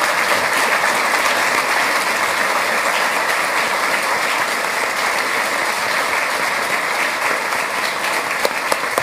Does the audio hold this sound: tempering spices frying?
no